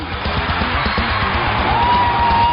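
A volleyball match crowd keeps up steady loud cheering, with rhythmic drumming underneath and a whistle-like tone rising near the end.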